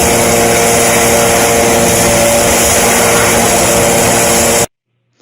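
A Typhoon vacuum unit sucks material up from permeable pavement, giving a loud, steady roaring whine heard close and continuous before cutting out abruptly near the end.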